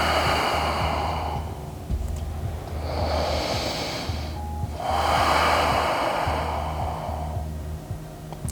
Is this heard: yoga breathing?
yes